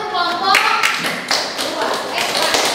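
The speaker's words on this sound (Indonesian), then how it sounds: "Tepuk tangan untuk kelompok" A classroom group claps together in a brisk burst of overlapping hand claps, close and fairly loud, with voices mixed in among the applause.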